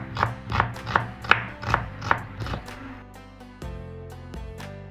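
Medium-sized onions are chopped finely with a knife: about seven crisp, evenly spaced chops ring out close by, then give way to a quieter tonal tail.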